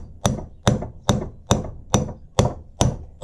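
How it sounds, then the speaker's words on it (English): Hammer strikes on a U-joint cap clamped in a vise, from a Polaris Sportsman 500 ATV driveline: eight sharp, evenly spaced metallic whacks, close and loud, with no talking. "hold on to this part with your hand and just hit it with a hammer"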